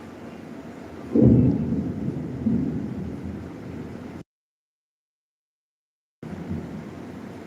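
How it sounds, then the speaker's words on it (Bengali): Heavy rain in the afternoon, with a deep rumble of thunder rolling in near the start and fading over a few seconds under the steady hiss of rainfall, broken by a short silent gap. "তো যা বৃষ্টি হচ্ছে চিন্তা হয়ে যাচ্ছে গো"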